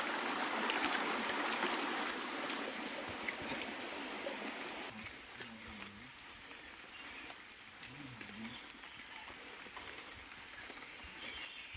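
A mountain stream along the Sabarimala traditional forest path, a soft, steady rush of flowing water that thins out halfway through, with scattered light knocks and footsteps.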